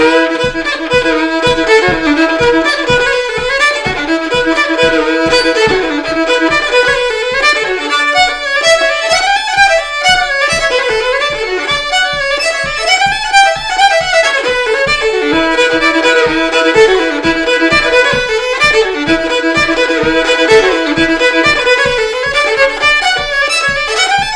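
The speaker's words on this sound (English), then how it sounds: "a reel is faster and wilder" A fast, lively reel, Drowsy Maggie, played on melodic instruments with a steady driving rhythm, continuous and full throughout with no voices.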